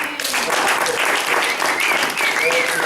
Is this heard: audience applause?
yes